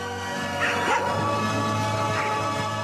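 A few short barks and yips from a pack of stray dogs over a steady low hum, somewhat distant, with no talking.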